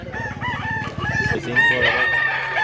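Roosters crowing and hens clucking in a crowded Cebu poultry market, a burst of rapid clucks up close followed by several overlapping crows, with market chatter faintly underneath.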